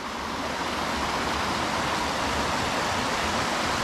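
The Chernaya River in the Baidar Valley, Crimea, flows into the Chernorechenskoye reservoir with a steady, even rush of water. The sound is close and continuous, with no voices.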